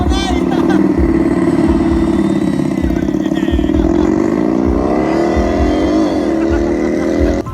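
A human voice imitates a revving car engine, a steady buzzing drone that rises and falls in pitch for several seconds without a break.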